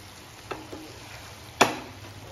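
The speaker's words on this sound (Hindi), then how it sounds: "तो अब हम इसको अच्छे से मिक्स कर लेते हैं ऊपर नीचे करके" Stir-fried vegetables are turned through masala in a pan for vegetable jalfrezi, with a soft frying hiss under two distinct spoon scrapes or knocks, the second louder.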